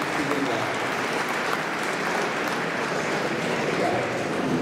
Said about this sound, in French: J'aimerais vraiment qu'ils nous applaudissent.